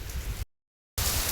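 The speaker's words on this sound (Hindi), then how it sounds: "बरसात ने अपना रूप बहुत ही भयंकर कर दिया है" Heavy rain pours down across a mountainside, a loud, steady hiss of drops that cuts out briefly into silence before returning just as dense.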